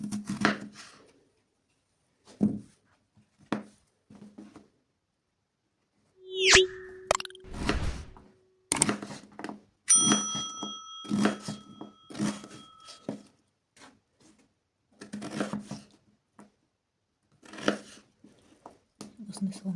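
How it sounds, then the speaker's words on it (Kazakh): Potatoes being cut with a knife into thin julienne strips on a board, a series of quiet, irregular chopping taps in short bursts alongside a few brief sharp kitchen noises. "Осындай соломка қылып барлығын турап аламыз."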